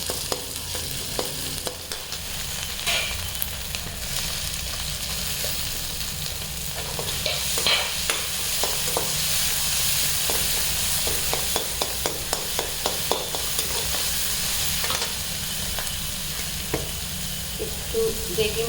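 Tomatoes frying in a pan with degi mirch, cumin and coriander powder for dal makhani: a steady close sizzle broken by repeated scraping clicks of stirring, with no talking.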